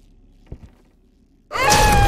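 A door in a ghost-hunting video game starts with a soft, faint thud, then swings open in a loud, drawn-out creak that groans and wavers in pitch.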